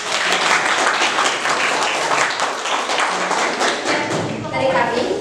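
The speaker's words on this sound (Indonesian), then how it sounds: "Tepuk tangan." A classroom of students claps for a group's presentation, a brisk, close burst of many hands that thins toward the end as a voice begins.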